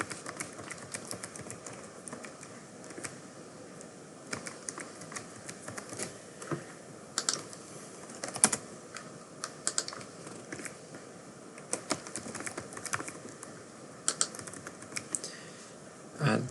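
Card details being typed on a computer keyboard, a steady run of close, light plastic key clicks with irregular rhythm and occasional sharper taps, continuing for the whole stretch.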